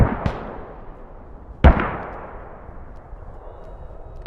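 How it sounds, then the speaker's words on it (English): Mortar rounds fire in a military video game, two distant booming thumps several seconds apart, each with a long rolling decay, and a third starting right at the end, with no talking. "Here's some mortars in the background."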